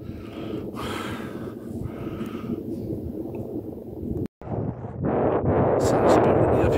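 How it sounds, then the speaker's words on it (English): Wind buffets the microphone on Uffington Hill near the castle earthwork, a rough low roar in gusts with a brief drop-out midway before a stronger, louder gust. "Sounds a bit windy up here"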